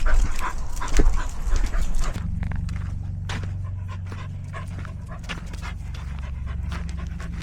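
Dogs panting rapidly and close by on a countryside walk, with soft footsteps and rustling, an occasional small whimper, and a brief louder burst early on.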